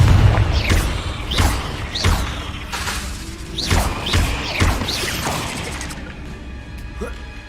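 Spell explosions from Confringo casting in the video game Hogwarts Legacy, a run of booming, crashing blasts with whooshing sweeps, repeated roughly every second amid game effects, loud and close, fading to a quieter hum near the end.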